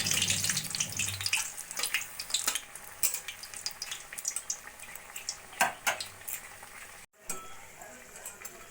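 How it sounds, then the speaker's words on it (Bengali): Potato pakoras fry in oil over a low flame, giving a steady close sizzle throughout, punctuated by light clinks and stirring of a utensil in the pan. "এইভাবে লো ফ্লেমে আলুর পকোড়াগুলো আমি ভেজে নেব"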